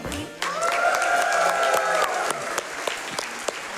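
An audience at a Summer Games Done Quick speedrun event applauds, giving sustained, dense clapping that holds steady throughout, with a tonal melody and voices sounding faintly over the crowd.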